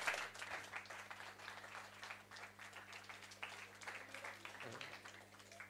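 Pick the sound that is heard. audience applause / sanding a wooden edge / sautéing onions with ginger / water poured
audience applause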